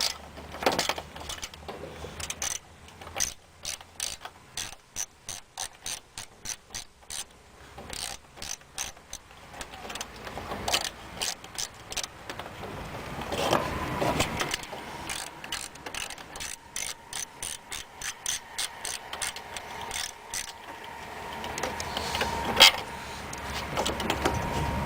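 10mm headlight bolt being removed from a Scion tC with a ratchet, close rapid clicking in repeated bursts with brief pauses and quiet handling noise.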